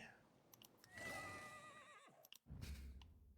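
A horse in the video game Elder Scrolls Online whinnies once, a clear, quavering neigh that rises and trails off over about a second, followed by soft clicks and a muffled thump.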